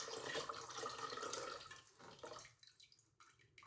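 Glaze drips and trickles steadily off a large ceramic bowl in an island pottery studio, with a dense wet patter that thins out into sparser, separate drops toward the end.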